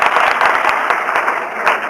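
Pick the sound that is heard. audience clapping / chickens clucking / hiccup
audience clapping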